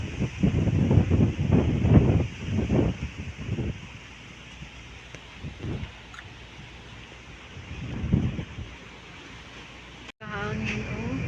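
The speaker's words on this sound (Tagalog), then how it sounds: "Hangin kaayo" Strong wind buffets the microphone outdoors in stormy weather, a loud, gusting roar with rustling that rises and falls, while a person speaks intermittently over it.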